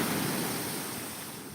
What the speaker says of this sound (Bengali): পুরো বীজ কাঁপানো ঢেউ মারাত্মক লেভেলের ঢেউ উঠছে